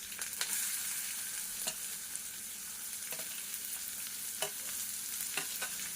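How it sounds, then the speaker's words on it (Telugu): Chopped large onions fry in hot oil with chana dal, mustard seeds and curry leaves, giving a steady bright sizzle with a few sharp stirring scrapes, close and alone. "ఇప్పుడు కట్ చేసిన పెద్ద ఉల్లిపాయ ముక్కలు వేసుకుందాము"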